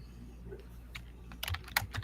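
Rapid typing on a computer keyboard, sparse soft key taps at first, then a denser run of sharper clicks toward the end, close and fairly quiet, with no talking.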